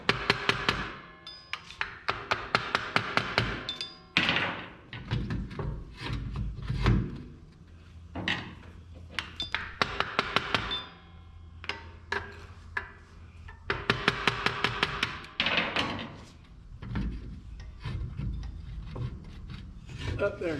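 A rusted brake backer plate on a Corvair Greenbrier van is worked loose from the wheel bearing with bursts of rapid scraping and rattling metal, in repeated clusters with pauses between, close by.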